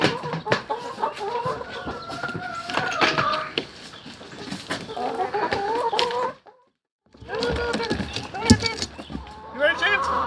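Backyard chickens cluck and squawk steadily while waiting to be fed, close and lively, with someone talking to them over the birds and a brief silent gap midway.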